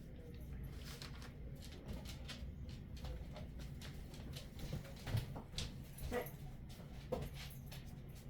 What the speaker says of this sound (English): I am surrounded by all three of our dogs right now